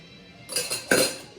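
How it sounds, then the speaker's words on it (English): A spoon clinks and stirs inside a glass of sparkling carrot mimosa with rosemary, two quick bright chinks close up after a brief quiet moment. "Stir it up with the rosemary."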